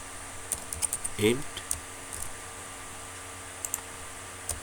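Keys on a computer keyboard clack in short scattered bursts while Python code is typed, faint and close over a steady background hum, with a brief spoken syllable partway through.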